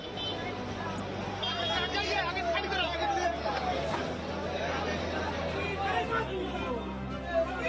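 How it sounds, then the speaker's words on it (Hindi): A crowd commotion at the Prayagraj MP-MLA court, where dense overlapping chatter and shouting from many people forms a steady, loud hubbub throughout, with a low rumbling drone beneath it. "ये भीड़, ये हंगामा प्रयागराज की एमपी एमएलए कोर्ट का है"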